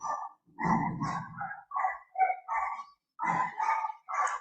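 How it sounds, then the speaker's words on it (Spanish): A dog barks and yips in a run of short, sharp, mid-pitched calls in an irregular rhythm, fairly close and alone with no talking, with a few whimpery notes mixed in. "Un perrito."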